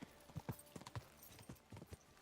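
Horse hooves clip-clopping in Kingdom Come: Deliverance II, an irregular series of soft thuds at a walking-to-trotting pace, fairly faint and close.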